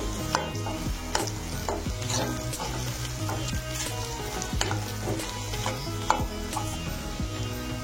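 Okra (bhindi) fries with salt in a pan while a spatula stirs it, giving a constant crackling sizzle punctuated by regular scraping knocks against the metal, close and fairly quiet, with no voices.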